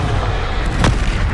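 Confringo spell blast in the video game Hogwarts Legacy, a short loud burst that pops and rumbles amid dense, heavy combat noise.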